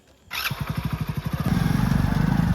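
A motorcycle engine starts up and idles close by, settling into a steady, loud chugging rhythm of rapid regular pulses that grows a little fuller toward the end.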